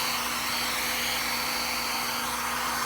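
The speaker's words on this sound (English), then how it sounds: "I will use my blow dryer to spread the white base paint" A hair blow dryer runs in a steady, loud continuous whoosh while spreading white base paint for a Dutch pour, with a faint constant whine underneath.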